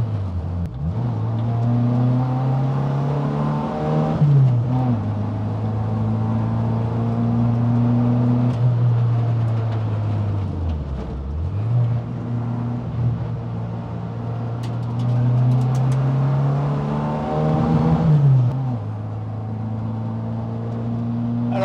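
A small Renault Dauphine engine revs steadily and loudly on a hill climb, its pitch climbing and dipping as gears change, close up and continuous with no talking.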